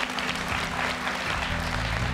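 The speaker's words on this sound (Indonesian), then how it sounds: "Luar biasa, tepuk tangan" A studio audience at a televised children's Quran memorisation show breaks into brief, dense applause over low background music, lasting about two seconds.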